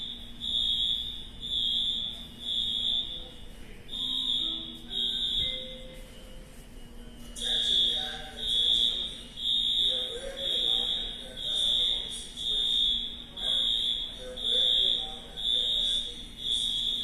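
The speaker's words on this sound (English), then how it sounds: "fire alarms going off" Fire alarms in the NYC Port Authority bus terminal sound repeated loud, shrill electronic pulses in a steady rhythm, echoing over crowd murmur, with a person speaking briefly.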